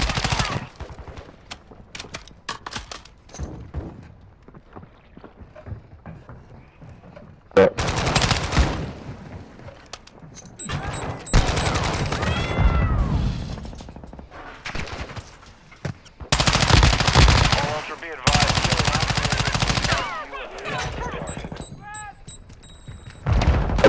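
Rapid automatic gunfire and sharp shots in a Call of Duty match burst out in loud, dense clusters, separated by quieter stretches filled with scattered pops, radio-style game announcements and players talking.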